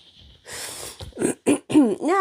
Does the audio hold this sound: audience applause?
no